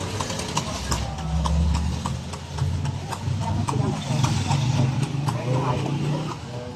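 Horse hooves clip-clop in a steady, even rhythm in Ilocos Sur, mixed with an engine's low hum while people talk over it.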